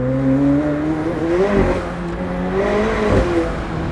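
A McLaren 765LT Spider's engine revving while the car drifts, a loud close roar that climbs and falls in two surges over steady road noise.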